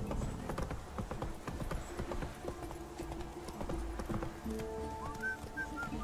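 Horse hooves while riding in The Witcher 3 video game, a rapid steady clip-clop of hoofbeats over the whole stretch, with faint mechanical clinks and game tones behind.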